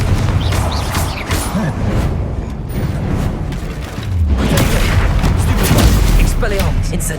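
Confringo explosive spell blasts in the Hogwarts Legacy video game, loud booming impacts and rumbling bursts in quick succession during combat, with crackling effects and a voice talking over the action.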